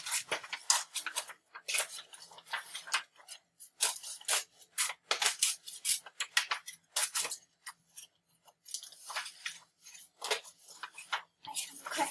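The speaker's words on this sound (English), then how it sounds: "So then you're gonna cut on the lines again." Scissors snipping paper along drawn lines, a close run of quick, crisp cuts in irregular bursts with short pauses between.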